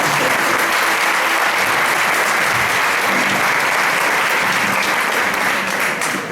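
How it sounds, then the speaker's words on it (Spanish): Dense, steady applause from an audience at a Christmas 2015 show at the Centro Aragonés del Puerto de Sagunto, honoring dance teacher Marta, loud and continuous throughout with no voices over it. "Así que un aplauso también para ella, por favor, Marta."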